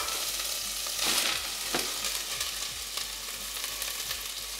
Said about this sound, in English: Get some olive oil in there. As you can see, I heated up my pan. Throw in my garlic.